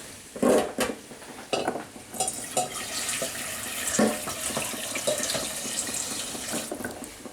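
Water runs from a kitchen tap over drained boiled beans in a strainer, a steady splashing rush with clatters and knocks as the beans are shaken and rinsed.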